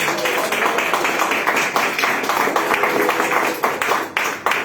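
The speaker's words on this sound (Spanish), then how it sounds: "Vamos a dar un aplauso al Señor." A church congregation applauding the Lord, a dense, continuous crowd clapping that carries evenly from start to finish.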